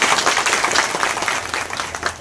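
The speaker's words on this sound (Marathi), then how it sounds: "नाना भाऊंचे सगळ्यांनी टाळ्या वाजवून स्वागत करायचे" Dense, steady applause from a gathered crowd welcoming a guest at a village distribution event for construction workers, many hands clapping continuously and fairly loud throughout.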